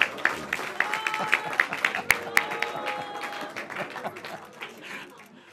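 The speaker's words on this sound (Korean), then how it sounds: "박수들 치세요." Scattered applause at a party floor leader election meeting, a loose rhythm of clapping with distinct individual claps and some louder thumps, fading gradually, with people talking underneath.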